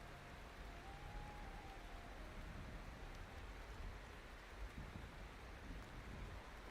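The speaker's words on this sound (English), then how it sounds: "It's even raining. We got thunder out here." Steady rain falls throughout a battle scene in the video game Mount & Blade II: Bannerlord, a dense hiss of heavy rainfall with low rumbles that suggest distant thunder, continuous with no talking.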